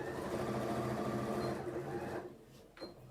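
A sewing machine stitches across a seam on a slider pouch, making a close, steady mechanical hum that runs for about two seconds, then stops, leaving faint handling noise.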